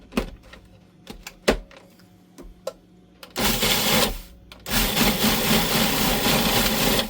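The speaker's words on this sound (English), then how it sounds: "I'm going to add another cup of salt and grind it really well." A Cuisinart food processor grinds a cup of coarse sea salt, its loud buzzing whir running in two long bursts after a few sharp clicks and clunks of handling at the start.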